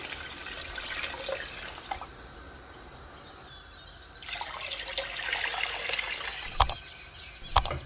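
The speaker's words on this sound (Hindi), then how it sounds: "तो अब इसमें मैं डालूँगी पानी" Water poured from a vessel into a pot of beef shank, a splashing pour in two bursts separated by a quieter pause, with a couple of sharp metallic clinks near the end.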